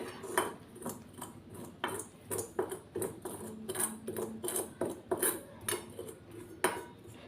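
A spoon stirs amla powder in a bowl with quick, rhythmic scraping and clinking, close and fairly quiet, with no voices.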